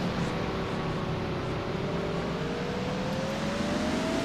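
Race cars in a NASCAR-style sim racing video game, the number 5 car among them, engines droning steadily with a slowly rising pitch as they run in a close pack, loud and continuous with no voices.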